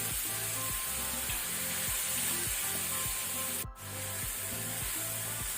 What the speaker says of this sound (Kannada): ಸಾಕು ಈರುಳ್ಳಿ ಫ್ರೈ ಆದದ್ದು,